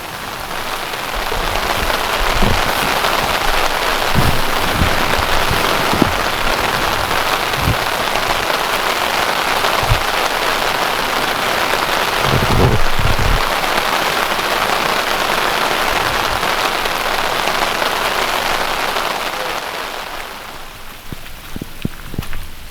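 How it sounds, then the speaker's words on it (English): Hail and heavy rain pelt a tent during a storm on a canoe trip through Quetico Provincial Park, a loud, steady dense patter with sharper individual impacts scattered throughout, easing slightly near the end. "Yeah, it's hailing."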